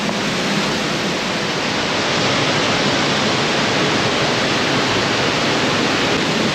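River water pours steadily into the Granite Hot Springs pool in Wyoming, a loud, continuous broadband rush like a small waterfall, unbroken and close, with no voices over it.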